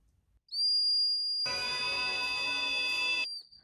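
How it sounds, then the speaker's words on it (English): A top dead center whistle for an engine gives a steady, high-pitched whistle that starts thin, swells to a fuller, louder tone for about two seconds, then drops back to a thin whistle before stopping. "This is called a top dead center whistle."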